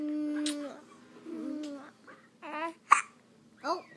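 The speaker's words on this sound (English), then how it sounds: "Ooh, those are some big hiccups." A baby girl hiccups with sharp, abrupt catches amid soft babbling and cooing, a couple of distinct hiccup bursts standing out near the mic between quieter baby vocal sounds.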